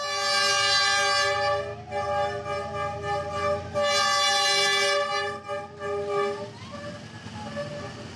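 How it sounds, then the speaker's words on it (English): A train in Hanoi roars past very close by, its loud horn blaring in two long blasts over the rumble of rolling wagons. "The train whooshed by"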